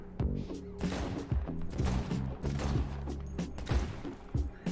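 Gunfire in Cyberpunk 2077, rapid bursts of loud shots with mechanical clatter in between, several volleys close together over about five seconds with no talk.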